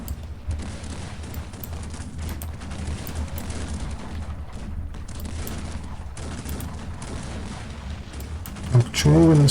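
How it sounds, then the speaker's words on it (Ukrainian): Dense, continuous rumbling bursts of gunfire and explosions in the video game Cossacks 3 roll on for several seconds, loud and close, with a brief deeper boom near the end. "стріляють."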